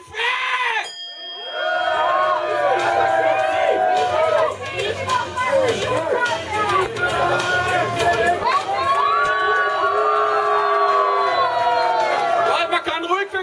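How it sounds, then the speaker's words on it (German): Crowd at a World Underground Wrestling event in Germany, a dense, loud mass of cheering, shouting and chatter that continues throughout at close range, with individual voices rising above the din. "Man kann ruhig für den Quincy ein bisschen jubeln"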